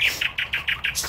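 Short, bright bird chirps in a park, about seven quick evenly spaced tweets in a steady rhythm, close and clear over a low background rumble.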